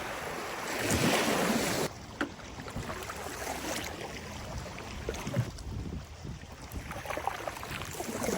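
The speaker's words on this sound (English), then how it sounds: "The waves coming in from the bay might be a little rough" Waves from the bay wash onto the shore at Shell Key, a rough, continuous surf with wind noise and a few louder splashes.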